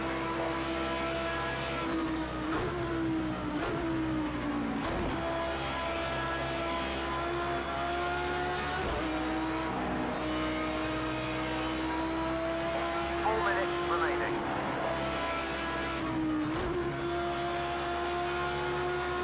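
Audi R8 LMS race car in Project Cars 2 at Le Mans, engine droning loudly under sustained throttle with brief dips at shifts and tire squeal scrubbing through the turns, no talk over it.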